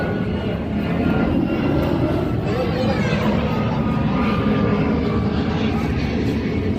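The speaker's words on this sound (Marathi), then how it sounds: "एरोप्लेन गेलं बघा. ए, प्लेन बघ आलो" A propeller aircraft drones overhead, a loud continuous engine rumble that holds steady across the stretch, with faint voices beneath it.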